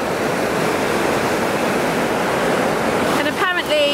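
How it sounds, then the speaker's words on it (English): Water rushes steadily through a channel built for fish migration, a dense close hiss of flow that holds evenly throughout, with a brief voice breaking in near the end. "It looks like they've channeled the water for the fish migration, so the fish swim in different directions."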